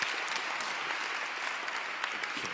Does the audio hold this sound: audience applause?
yes